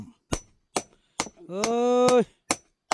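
Sharp hammer blows strike wood in a steady, evenly spaced rhythm, close and loud, with a brief ringing tonal sound in the middle between strikes during outdoor building work.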